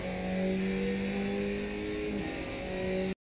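Skip Barber race car in iRacing powering uphill out of a corner on the New Hampshire Motor Speedway road course. The engine drones loud and steady, rising in pitch, with one clear gear change partway through.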